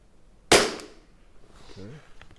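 A single sharp crack of a Tikka T1x .22 LR rimfire rifle shot, close and fairly loud with a short decay, followed by quiet room tone and a brief faint voice.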